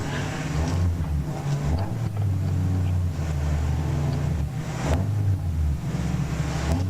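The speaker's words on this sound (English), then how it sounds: "Red lights on then, and out they go, and the race gets underway" MG Trophy race cars roar away from the start at Donington Park, several engines revving hard and rising in pitch together, loud and continuous, with gear changes breaking the drone.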